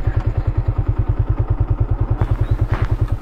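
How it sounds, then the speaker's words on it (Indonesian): A motorcycle engine idles steadily close by near a small railway bridge, beating out an even, rapid thumping pulse with no speech over it. "Simpan motor di sini."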